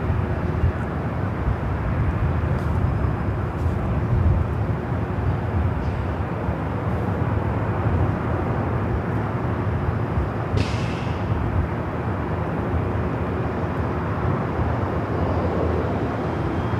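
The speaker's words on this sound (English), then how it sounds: "Next arrival is at United, A321neo coming in from Denver, flight 1013." A United Airbus A321neo arriving at LAX from Denver produces a steady, broad jet roar that holds at moderate distance throughout, with a brief faint chirp partway through.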